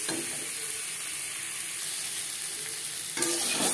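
Peeled, boiled potatoes sizzle steadily in hot oil in a pan, a constant close frying hiss with occasional stirring scrapes, growing a little louder near the end.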